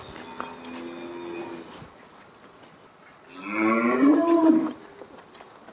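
A single long, loud Holstein Friesian cow moo rises out of quiet farmyard background noise, lasting over a second before fading.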